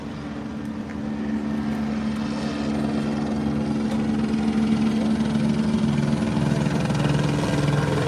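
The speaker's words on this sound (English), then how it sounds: "I understand the chopper was too loud," A police helicopter circles over Los Angeles, its rotor drone a steady low thrum that builds slightly and holds loud throughout, with no voices.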